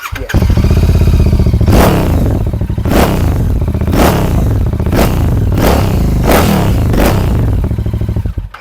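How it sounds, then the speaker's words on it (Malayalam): A Royal Enfield Super Meteor with an aftermarket exhaust idles with a deep, loud, close thump and is revved in a series of about six sharp throttle blips, each surging and falling back. "അതിൻ്റെ എക്സോസ്റ്റ് നോട്ട് ഒന്ന് ഞാൻ കേൾപ്പിച്ചു തരാം"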